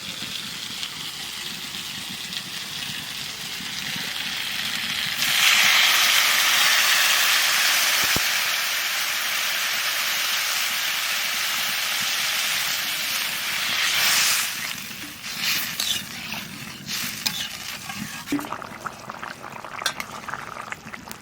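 Squash cooking with spices in a pan over heat, a steady loud sizzle that swells into a strong bubbling hiss once water goes in, then settles into a quieter simmer; no one speaks.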